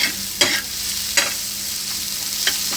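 Steady frying sizzle of a cabbage and gram flour mixture on a hot griddle, with three sharp scraping stirs of a spatula spaced through the sound.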